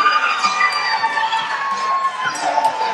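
A crowd at a live professional wrestling show cheers and shouts for a fan favorite, a loud sustained roar of voices with high-pitched yells, including children, throughout.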